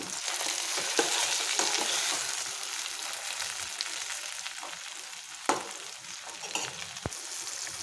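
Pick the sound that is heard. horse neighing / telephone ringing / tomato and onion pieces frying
tomato and onion pieces frying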